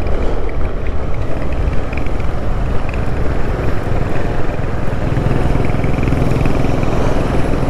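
A motorcycle rides along a road at about 40–50, its engine buzzing steadily and close amid continuous wind and road rush, with no voices heard.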